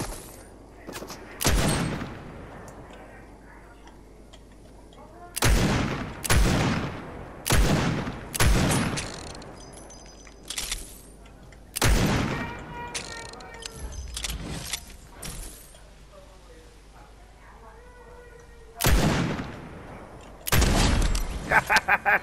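Gunfire in the video game Fortnite, loud sharp bursts and rapid volleys recurring in clusters amid quieter in-game noise.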